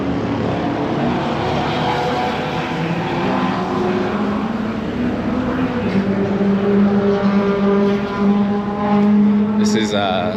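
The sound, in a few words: race cars driving on track during track day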